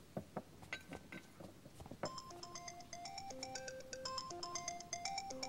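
A phone ringtone plays as a bright chiming melody of repeated tones that grows steadier and fuller after a few scattered clinks, with no talk over it.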